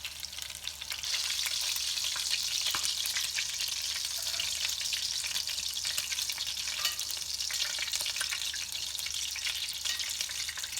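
Souzoukakia meatballs fry in a pan, giving a steady, close sizzle with bright crackling that holds for about ten seconds. No one speaks.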